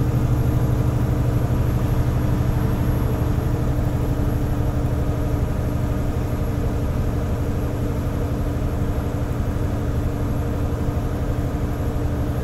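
A truck engine holds high revs while it climbs a slope, giving a loud, steady drone with a constant tone. It stays close and unchanging and runs alone without any talk.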